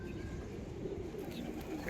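Pigeons on a rooftop loft coo softly and steadily, faint and close, with a low murmur and bird calls spread through the brief stretch.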